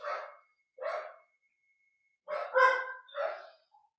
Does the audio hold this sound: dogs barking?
yes